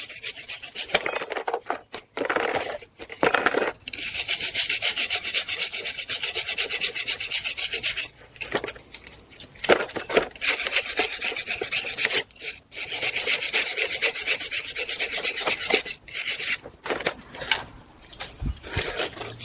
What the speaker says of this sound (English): we'll take a wire brush and we'll clean off a little bit of this rust